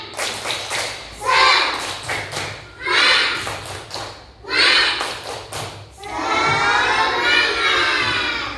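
A group of people clap together in short rhythmic bursts, ending with a longer burst of clapping and cheering, fairly loud and close.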